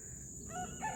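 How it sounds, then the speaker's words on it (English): A rooster crows near a farm barn and front porch, a fairly close call rising in a couple of strained bursts over steady background hiss. "Is the rooster on the front porch?"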